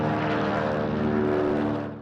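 A vintage warbird's 1,900 horsepower radial engine roars as it drives the propeller, a loud, steady, close throbbing drone that holds throughout before easing slightly at the end.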